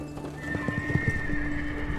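Hooves of English knights' war horses clip-clop in an uneven rhythm close by, with a horse whinnying over a steady low background, no talk.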